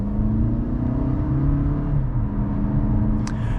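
A 2023 Toyota Camry SE with a four-cylinder engine, driven in eco mode, accelerates gently. A low, even engine drone climbs slowly in pitch, heard steadily from inside the cabin with no talking.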